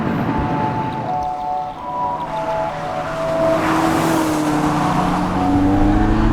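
A Lotus Elise 240 Sport drives along with a steady engine drone that rises in pitch through the gears, the tone climbing and settling as it accelerates, heard from inside with no talk.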